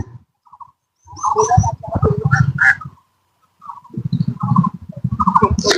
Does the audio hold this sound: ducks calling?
yes